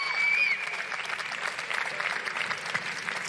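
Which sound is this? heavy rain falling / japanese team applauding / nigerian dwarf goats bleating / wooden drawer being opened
japanese team applauding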